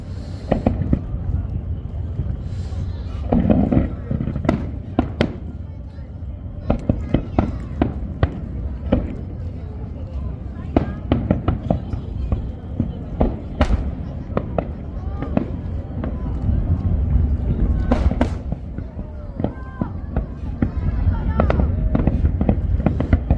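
Fireworks launching and bursting in front of Yeouido pier in Seoul, a steady series of sharp cracks and booms over a crowd, with someone talking throughout.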